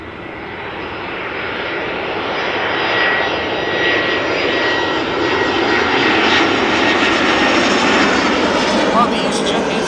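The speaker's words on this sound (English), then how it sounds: "Well, the EasyJet A319" An EasyJet Airbus A319 jet airliner arrives at Amsterdam Schiphol Airport, its loud, close engine roar swelling and holding broadband for about ten seconds, with a faint voice underneath.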